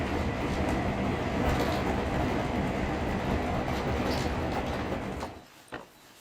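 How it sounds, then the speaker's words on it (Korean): A train rumbles and rattles steadily while riding out of Tokyo toward Hakone. The loud, continuous rolling noise fills most of the ride, then drops away abruptly near the end. "기차로 2시간."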